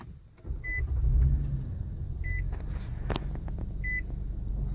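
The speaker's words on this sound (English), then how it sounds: "Now we're just going to start the car up." 2009 Nissan Murano starting after a fuel sender replacement: the engine cranks and catches into a steady idle, with three evenly spaced high chimes from the dashboard sounding over the running motor.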